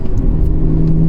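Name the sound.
VW Golf Mk6 1.4 TSI engine accelerating on full boost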